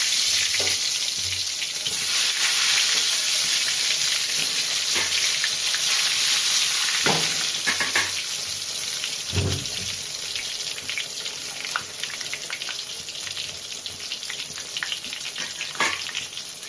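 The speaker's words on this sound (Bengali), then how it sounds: "এবার আমি বেগুন ভাজা চালু করছি" Eggplant slices for Bengali-style begun bhaja frying in hot oil: a continuous close crackling sizzle, broken every few seconds by sharp clacks of a spatula or tongs, with no one talking.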